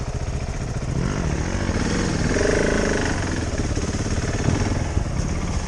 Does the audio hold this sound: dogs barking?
no